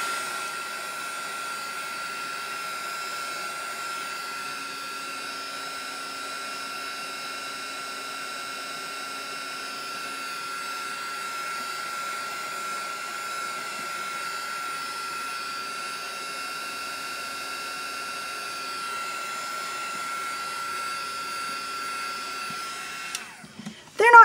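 A heat tool blows a steady, whining roar as it dries surface sprays on paper, running continuously and close for over twenty seconds before a brief clatter at the end.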